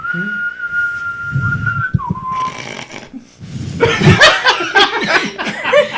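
A couple of people whistle with their lips during a casual podcast chat. One steady held tone is followed by a brief lower one, then laughter and chuckling break out.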